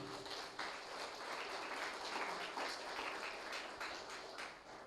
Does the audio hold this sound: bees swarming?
no